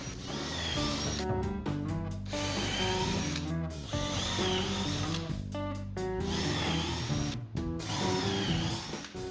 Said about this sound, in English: drill countersunk holes in the frame for the screws that hold on the face